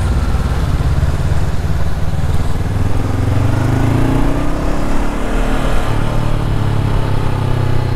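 A 2024 Honda CB500R rumbles through a test ride behind a marshal at a Honda Philippines big-bike event. The engine drone is loud and unbroken, its pitch rising and falling gently with the throttle.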